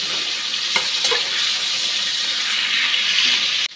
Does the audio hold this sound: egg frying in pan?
yes